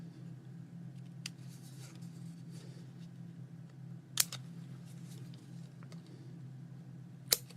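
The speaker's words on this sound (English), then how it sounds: "I took my little fine point scissors here and I'm cutting out the centerpiece of this clock" Fine point scissors snip through paper while cutting out the centerpiece of a paper clock, giving a few sharp, isolated clicks near the mic over a steady low hum.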